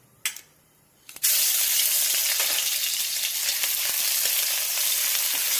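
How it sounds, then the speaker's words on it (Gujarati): Ginger and chillies dropped into hot oil burst into a loud, sustained sizzle after a couple of short clinks, the frying hiss holding steady and close with no talk. "એ ગરમ થાય એટલે આપણે એમાં પહેલા આદુ મરચાં નાખીશું"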